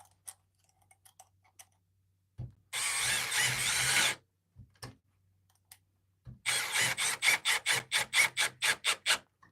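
A Milwaukee M12 compact drill drives a screw with a T25 bit: one sustained whirring burst, a pause with small clicks, then a second run broken into rapid rhythmic pulses, close and loud.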